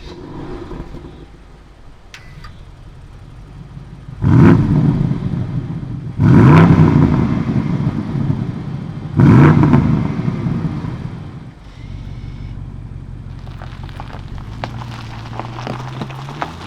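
A BMW M550i xDrive with a 530 hp V8 drives on the road, its engine rumbling steadily inside the cabin and swelling in three strong acceleration surges before settling back to a smooth cruising drone.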